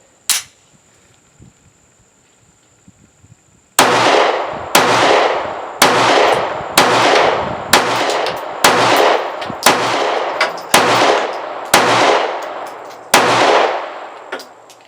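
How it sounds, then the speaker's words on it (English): A SCCY CPX2 pistol firing cheap steel-cased 9mm ammunition at a range: one early shot, then a pause and about ten sharp, loud reports in a steady rhythm, each ringing out before the next. "we're gonna fire, it's 9mm, it's the cheap steel stuff we're firing."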